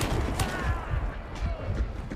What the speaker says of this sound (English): Here are some examples of shooting at medium to long range